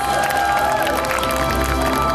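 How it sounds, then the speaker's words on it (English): A crowd applauds and cheers at a fashion and awards event honouring women, a steady, dense wash of clapping and shouting with no break across the whole stretch. "a big unanimous round of applause"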